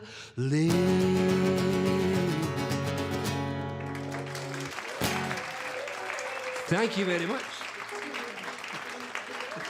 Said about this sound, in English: That applause sounds pretty loud, actually